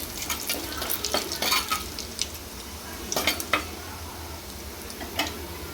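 Whole spices (bay leaf, cinnamon, cardamom, cloves, dried chili and shahi cumin) sizzle softly in hot oil, with a few close scrapes and clinks from the pan and spoon in an otherwise steady hiss.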